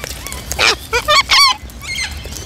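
A bird on a farm with cows honks in a few loud, close, goose-like calls, some short and some drawn out, with brief gaps between them.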